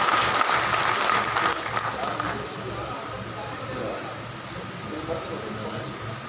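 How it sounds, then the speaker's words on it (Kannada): An audience at a Karnataka government ration dealers' association event applauds loudly with dense clapping at first, then fades to a softer, thinner patter, with some room hum and faint voices underneath. "ನಿಮ್ಮೆಲ್ಲರ ಪ್ರೀತಿಯ ಚಪ್ಪಾಳೆ ಬರಲಿ"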